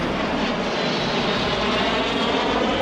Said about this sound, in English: There's some jets flying over.